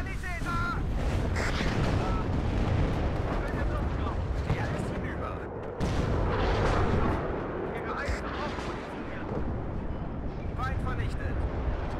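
Artillery strikes in the WARNO strategy game: continuous heavy booms and rumbling explosions with scattered gunfire, loud and dense throughout, with someone talking over the barrage.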